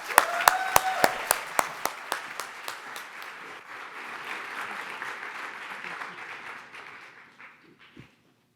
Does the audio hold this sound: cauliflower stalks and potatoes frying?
no